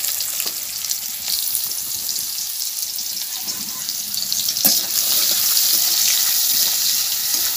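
Onion fries in oil with a continuous hissing sizzle that grows slightly louder toward the end, broken by a few light clicks from the pan, close and steady with no speech.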